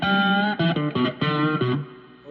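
Electric guitar played through a Joyo Oxford Sound distortion pedal into a clean amp, a sequence of loud, sustained distorted notes and chords with rich overtones, played alone and ringing out at the end.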